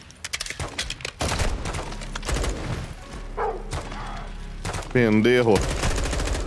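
Gunfire from the Call of Duty Modern Warfare 2 campaign, with bursts of rapid shots and heavy thuds in a border cartel firefight while someone talks over them.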